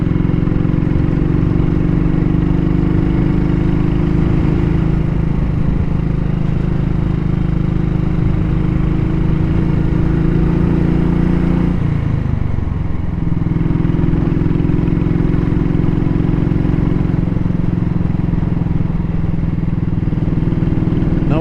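A vintage motorcycle with a Burman gearbox labors up a hill climb near the French Cross and Baxter Harbour Falls, its engine a loud steady drone that dips briefly midway, as if changing gear, before pulling on.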